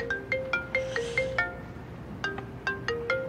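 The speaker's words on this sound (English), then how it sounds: "Your phone's ringing." A mobile phone ringtone plays a bright, repeating electronic melody in two bursts with a short gap between them, fairly loud and with no talking.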